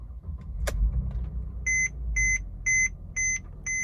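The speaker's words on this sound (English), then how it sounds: "So now if we turn on the car" A 2011 Mercedes-Benz W212 E350 is switched on after some faint handling noises, followed by five evenly spaced electronic chime beeps from the dashboard, clear and close.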